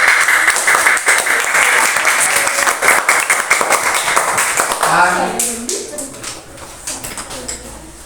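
A classroom of students claps together in a dense burst of applause that fades after several seconds, giving way to a voice speaking.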